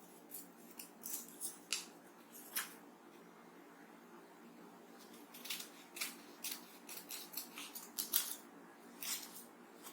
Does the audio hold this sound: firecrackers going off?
no